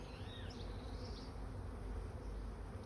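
A dense, continuous drone of honeybees swarms close and loud around an open hive during an inspection, with no voices.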